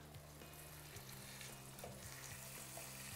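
Liver strips with rosemary fry in a pan, giving a steady close sizzle with a few faint scrapes and clicks from turning them, and no talking.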